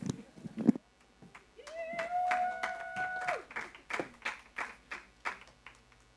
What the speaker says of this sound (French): De gloire en gloire, on peut les applaudir, effectivement